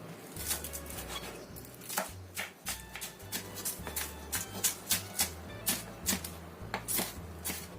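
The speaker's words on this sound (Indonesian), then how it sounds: "kita pakai 2 batang daun bawang yang sudah kita cuci, kita potong halus juga" Rapid knife chops through green onions on a cutting board, steady rhythmic taps with short pauses between bursts, close and clear with no talking.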